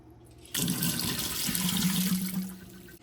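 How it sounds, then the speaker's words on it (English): Tap water runs steadily into a sink while seeds are drained and rinsed, a continuous close splashing gush that starts abruptly and fades slightly toward the end. "you gotta drain it, rinse the seeds, and then, no, seriously, drain thoroughly until you get all the water out"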